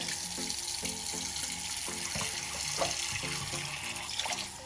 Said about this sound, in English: fill the rest with hot water